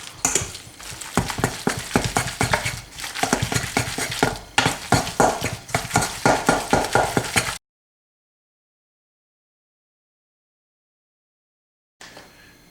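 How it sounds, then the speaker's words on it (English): Meatball mixture for Hawaiian meatballs is worked with a large spoon in a bowl, making a run of close, rhythmic wet scrapes and soft knocks for several seconds, followed by silence and a brief final scrape. "Using a large spoon, I'm gonna mix all this together."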